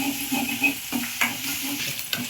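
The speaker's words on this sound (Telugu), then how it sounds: "ఈ అల్లం వెల్లుల్లి పేస్ట్ కొంచెం గోల్డెన్ బ్రౌన్ కలర్ వచ్చే వరకు వేగిపోతే సరిపోతుంది" Ginger garlic paste fries in a hot pan with a steady sizzle, and a spoon stirs it in a few close scraping strokes.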